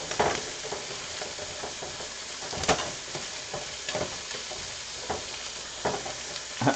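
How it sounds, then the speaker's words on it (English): Mushrooms fry in a pan next to a pan-seared steak, under a constant sizzle broken by a series of irregular scraping, clattering stirring strokes, close by and with no voices. "Just gonna stir the mushrooms"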